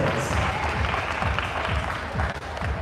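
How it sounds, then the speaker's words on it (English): A continuous round of applause from an audience gathered for a youth flying competition, broad and steady throughout the short stretch, with no voices standing out. "So let's give ourselves a big round of applause for growing Future Flyer Face-Off around the United States."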